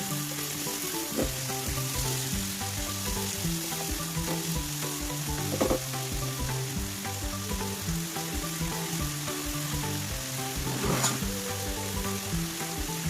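Potato pieces, salted and mixed, frying in hot oil in a pan, with a continuous loud sizzle and occasional stirring clinks and scrapes throughout.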